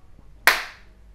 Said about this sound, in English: I'm just going to give us a clap first.